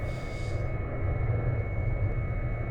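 A Cessna C208 engine at low idle in the X-Plane 11 flight simulator, a steady low drone and hum that holds evenly at moderate level throughout with no voices.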